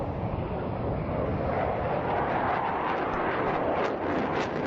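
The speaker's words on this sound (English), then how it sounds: "the display pilot, using all his professional skills and acumen, is turning the aircraft 360 degrees while maintaining constant height while enduring high Gs" A JF-17 Block 3 fighter jet flies a high-G 360-degree turn at constant height during a display at an air show in Saudi Arabia, producing a loud, continuous broadband engine roar that rises slightly with some wind buffeting.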